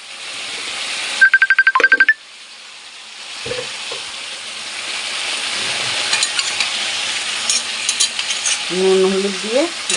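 Mixed vegetables with cauliflower sauté in plenty of oil with salt and turmeric, giving a steady close sizzle and stirring scrapes; a brief run of electronic beeps sounds near the start.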